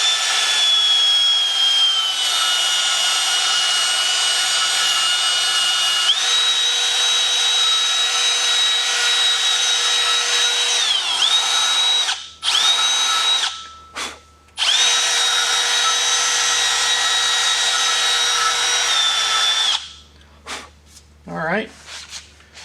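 A rotary power tool whines steadily while cleaning the threads of a compressor fitting, its pitch shifting slightly under load, then cutting out briefly and winding down near the end.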